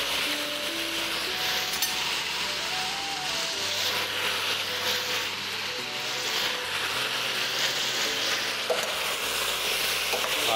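Onions, apples and peppers frying in a pan over high heat, a steady loud sizzle running throughout with faint clinks, no voices.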